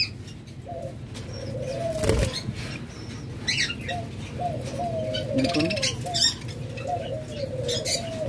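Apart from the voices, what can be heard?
caged birds in a bird shop: lovebirds, budgerigars, cockatiels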